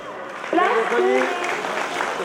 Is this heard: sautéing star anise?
no